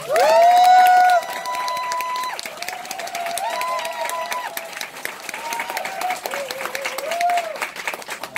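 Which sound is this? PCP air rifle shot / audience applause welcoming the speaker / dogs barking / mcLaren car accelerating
audience applause welcoming the speaker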